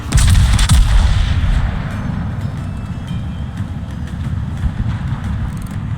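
Ship guns firing salvos in a naval battle video game aboard the cruiser Bourgogne, a loud booming broadside up front that rolls into a sustained low rumble, with no talking.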